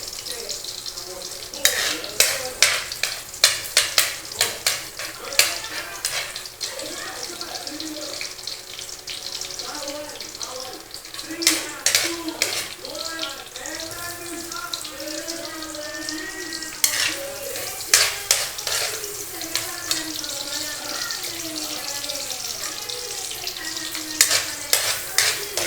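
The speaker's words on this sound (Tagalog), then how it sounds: "Igigisa ko na ang pansit." Bihon noodles are sautéed in a pan, a continuous sizzle broken by frequent scraping and clattering stirs, close and fairly loud, with a faint voice and some running-water-like hiss in the background.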